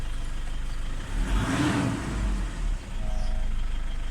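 Engine of a 2008 Toyota Innova revving up to a rounded peak at mid-clip, then settling back to a steady idle hum, heard up close with no talk.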